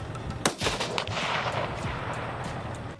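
Rifle gunfire from hunters shooting kangaroos in Australia: one sharp, loud nearby shot followed by a rolling echo and steady outdoor background rumble.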